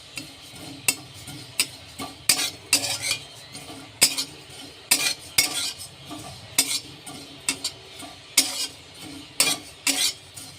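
A spoon keeps stirring cumin seeds as they roast in a pan, making rhythmic scraping and clinking strokes at a steady pace, close and clear with no voices.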